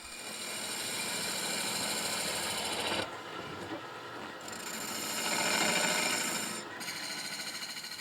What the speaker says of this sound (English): Once the wood base is firmly secured to the lathe, she carves out the shape.